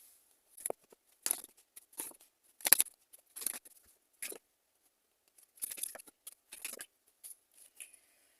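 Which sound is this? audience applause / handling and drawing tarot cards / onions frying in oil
handling and drawing tarot cards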